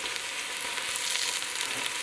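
Beef sirloin frying with onion in a hot pan, a steady close sizzle and crackle of fat running continuously without any talk.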